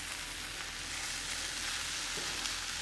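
Fresh kale hits a hot Instant Pot on sauté and sizzles steadily, a close, even frying hiss with soft stirring that runs throughout, with no talking.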